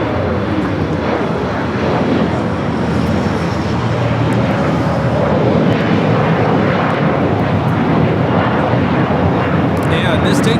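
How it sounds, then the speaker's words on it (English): United Express Embraer E-175 regional jet taking off from LAX: a loud, sustained engine roar filling the air, with a commentator talking over it throughout. "This takeoff is United Express 5241 taking off to Monterey on the E-175."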